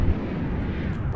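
Large, fast-firing simple shell cannons in the video game From The Depths boom in a dense, continuous low rumble, loud and close, with overlapping blasts merging into one roar.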